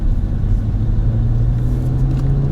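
A Peugeot 607 V6 with manual transmission rumbles loudly up close as power is applied, a deep steady engine drone with a slight rise in pitch toward the end.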